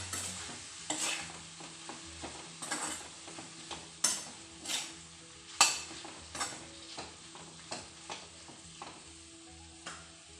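A spoon stirs and scrapes liver pepper dry masala in a sizzling pan, with repeated close metallic clanks at an irregular rhythm over a steady frying hiss and no talking.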